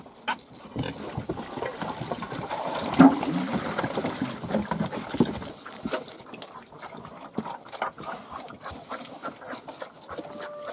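Piglets grunting and snuffling in a pigsty while eating from a trough of crushed grain and slops, a continuous busy chorus of close grunts and slurping with no talking.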